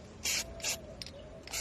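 Four short hissing bursts from a spray paint can coat a batch of cabinet screws, each puff about a fifth of a second, close and fairly loud, with brief pauses between.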